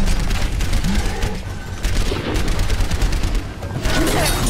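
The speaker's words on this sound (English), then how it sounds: "As soon as I came, the boom, something just blew up, man." Explosions and rapid weapon fire boom through an Overwatch match, loud and dense, with heavy blasts rolling throughout and no talk over them.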